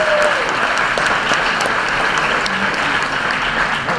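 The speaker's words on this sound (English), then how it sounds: "Oh, big applause." A large audience applauds Leo Hoffmann-Axthelm at the European Forum Alpbach Speakers' Night 2014, a dense, steady wash of many hands clapping loudly and evenly throughout, with no voices standing out.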